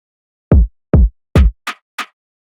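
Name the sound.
kick drum in a drill beat drop, FL Studio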